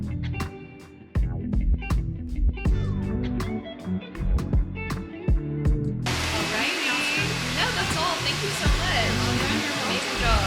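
A hair dryer blow-drying hair at a blow-dry bar, a steady broadband whoosh taking over about halfway through, with clattering handling noises and bursts of nearby chatter.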